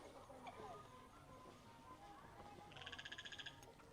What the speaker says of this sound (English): I can hear a frog as well.